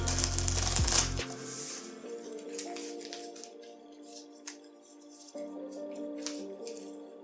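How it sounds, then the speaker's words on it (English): A deck of playing cards is shuffled up close: a loud riffling burst at the start, then scattered light card taps and flicks over soft background music. "I explained why I'm so bad at shuffling cards"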